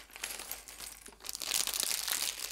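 A plastic bag of Lego pieces being torn open and handled, close crinkling and rustling that grows louder and busier halfway through, with no talking.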